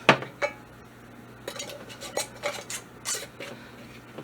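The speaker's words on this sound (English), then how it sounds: "I'm going to put rings on these two and set them aside until we're ready for the next batch." Metal rings being put onto canning jars of chili in a home kitchen, heard as a few scattered metallic clinks and light taps, some sharp and isolated, others in short clusters, moderately close.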